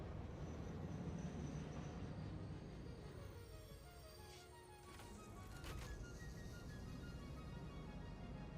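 A short train rolls past in a video game, giving a low rumble of wheels with faint tonal squeals that swells, dips briefly, then returns and continues steadily.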